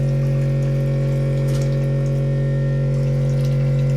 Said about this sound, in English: that is the machine there that drives the salt out of the water